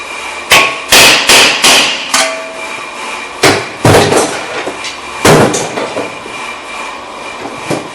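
Metal hammer blows striking a brake rotor on a 2012 Honda Accord, a series of sharp, loud, close clanks in irregular bursts, some struck quickly in pairs, with ringing decay between hits.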